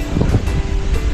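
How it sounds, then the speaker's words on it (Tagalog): Strong, gusty wind buffets the microphone outdoors in a loud, continuous rumble that rises and falls over a second. "grabe hangin ngayon, parang may bagyo eh"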